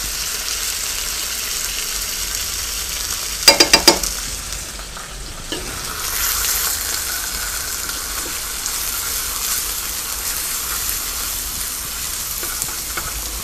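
Garlic goes into a pan of chicken frying in butter, giving a steady sizzle with a short burst of stirring clatter early on, then a continuous hiss that carries on alone.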